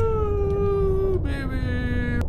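A cat meows in a horror video game set under the sea, a single drawn-out wavering cry that dips in pitch midway, heard close and clear over low background game noise.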